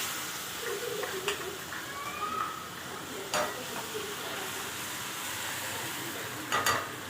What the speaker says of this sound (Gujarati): જો મિત્રો વડાપાઉંનો વઘાર કરીએ છીએ આપણે નાખ્યો છે લીમડો અને આદુ મરચાની પેસ્ટ